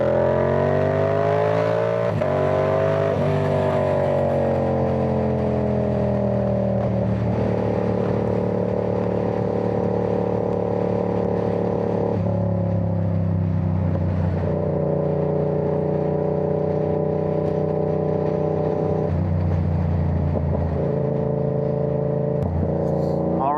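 A Yamaha R7 motorcycle on an overcast road ride roars loudly and steadily while passing a car, its engine pitch climbing and dropping through repeated gear changes.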